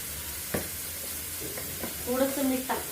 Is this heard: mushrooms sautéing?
yes